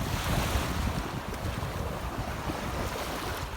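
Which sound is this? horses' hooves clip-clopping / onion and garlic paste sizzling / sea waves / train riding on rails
sea waves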